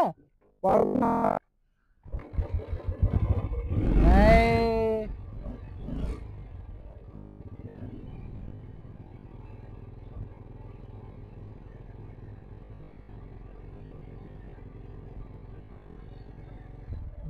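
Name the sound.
motorcycle engine running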